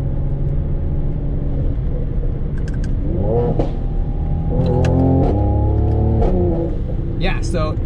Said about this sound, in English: I'm gonna do the double declutching thing I was talking about, and that's simply just downshifting twice, like really quickly